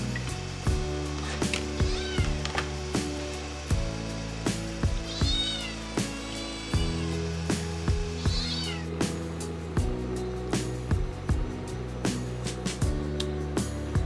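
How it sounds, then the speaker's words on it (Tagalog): A cat meows repeatedly in a home kitchen while ginisang monggo with chicken is being cooked, the cries rising and falling over steady background music with no talking. "Naamo niya siguro yung aking niluluto kaya nagningiyaw-ngiyaw."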